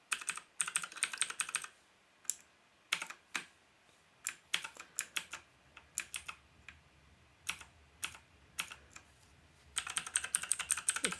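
Keys clatter on a JK-TECH E-Element Z-88 mechanical gaming keyboard in bursts of rapid close clicks, broken by pauses and single taps, fairly quiet with no voices.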